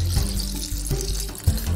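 Water is gently poured into a homemade rain gauge container over rocks, a steady splashing trickle heard up close with no talking.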